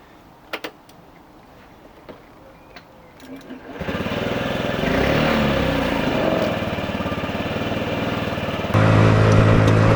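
A Honda Zoomer scooter engine after an oil change: a few light clicks, then the small engine starts and settles into a steady, close idle that grows slightly louder near the end.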